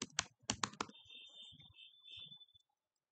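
Rapid keystrokes on a computer keyboard while CSS code is written: a quick cluster of crisp clicks at the start, then sparser soft taps under a thin steady tone, fading to silence.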